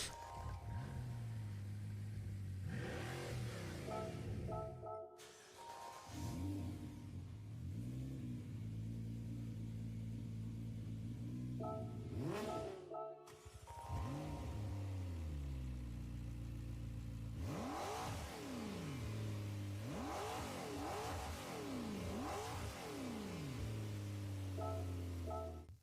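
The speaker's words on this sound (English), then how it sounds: "Each car's startup sound is its real-life startup sound." Car engines in Gran Turismo 7 crank and rev repeatedly, recorded from the real cars, rising and falling in pitch with brief gaps between startups, each burst loud and close.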